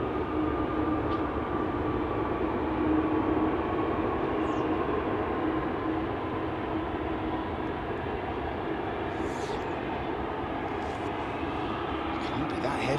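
An airliner lands at Anchorage and deploys its thrust reversers late, producing a continuous broad roar heard from a distance that holds steady without breaks.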